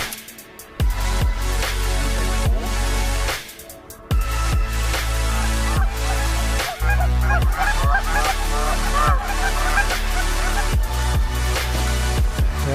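Geese honking loudly as a flock flies in during a hunt in Russia, many overlapping calls continuing almost without pause, briefly quieter near the start and around four seconds.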